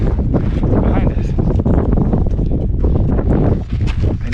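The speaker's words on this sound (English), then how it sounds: "It's starting to get a little bit windy, but it's not too bad yet." Gusty mountain wind on the summit climb of South Sister buffets the microphone in a loud, rumbling roar that rises and falls, with a voice faintly mixed in.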